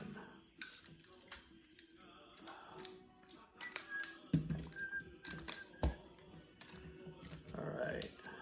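Die-cast Bandai Soul of Chogokin GX-88 Dairugger vehicle Voltron toy parts being folded, giving scattered sharp clicks and taps close up among handling noise, with speech around them.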